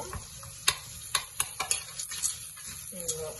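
Onions fry softly in a pan for a Telugu semolina and vermicelli upma while a utensil scrapes and taps against the metal in several sharp, close strokes over a faint sizzle.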